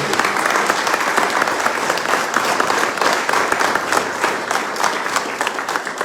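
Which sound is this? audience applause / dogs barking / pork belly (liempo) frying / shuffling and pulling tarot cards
audience applause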